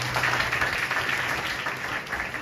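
Audience applause at a church Christmas skit, a steady wash of many hands clapping together that fills the whole stretch at an even, fairly loud level.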